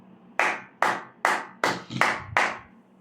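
A congregation at a night prayer service claps in unison, six crisp, evenly spaced claps about every half second, close and clear with nothing else in between.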